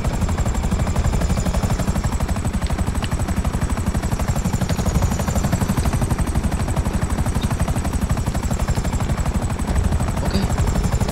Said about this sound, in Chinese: 直升机好像快坏掉了